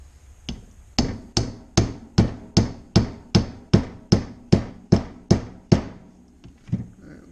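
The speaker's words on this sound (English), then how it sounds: "and now I'm going to tap it again." Roughly a dozen evenly spaced sharp hammer taps seat a throttle body seal on a GSX, each strike crisp and close, with no talk.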